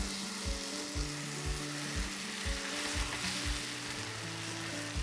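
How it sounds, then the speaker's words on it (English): Cornbread batter sizzles steadily in a hot skillet, a constant frying hiss with occasional soft knocks and scrapes underneath. "You see that sizzle? That's what you want."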